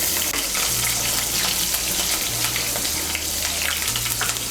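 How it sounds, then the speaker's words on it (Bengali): Halved eggplant pieces with a little salt fry in hot oil over a raised flame, a steady loud sizzle and crackle filling the whole stretch with no talk. "নুনটা মিশিয়ে আঁচটাকে বাড়িয়ে বেগুনগুলোকে ভেজে নেব।"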